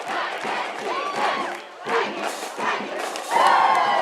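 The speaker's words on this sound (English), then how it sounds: "This partisan purple crowd pretty happy about this." A partisan home crowd at a high school football game in North Kitsap roars and cheers after a touchdown, with rising whoops and shouts that swell toward the end, loud and broad.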